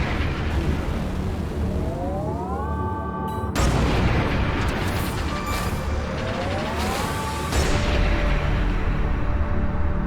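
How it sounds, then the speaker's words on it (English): Missiles fired at the player's ship in Everspace 2: twice a rising whistling tone climbs over a dense roar and then breaks into a loud, harsh explosive burst, the second about four seconds after the first. "something's firing missiles at us"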